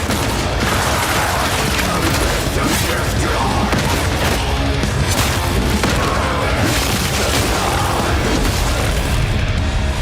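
Gunfire and booming explosions from a video game trailer, dense and loud throughout, layered with music and effects.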